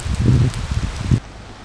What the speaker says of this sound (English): boy, it's raining now